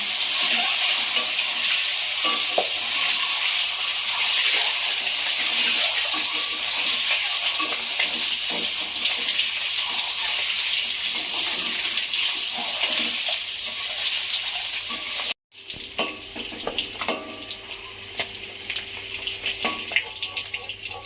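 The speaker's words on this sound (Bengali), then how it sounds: "ডিমগুলো আমি ভেজে নিচ্ছি।" Eggs frying in hot oil in a pan for an egg curry, a steady loud sizzle that runs unbroken and then drops off abruptly into quieter crackling and spitting.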